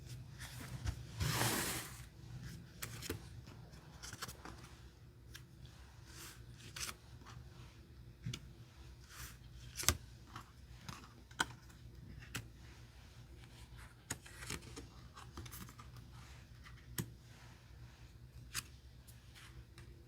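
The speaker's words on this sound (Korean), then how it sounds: "카드 5장을 선택해 볼게요" Five tarot cards being drawn and handled: a brief swishing slide near the start, then sparse soft taps, flicks and card snaps spread over a long quiet stretch, close but faint.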